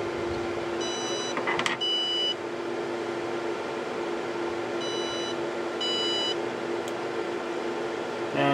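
Short electronic beeps from a Cell Log 8 battery monitor alarm sound in a few separate bursts over a steady humming background, fairly clear but not loud.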